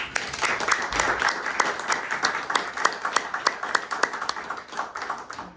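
Audience applause following a live poetry reading, a steady patter of many hands clapping close by that carries on for several seconds, with a few sharper individual claps standing out from the crowd.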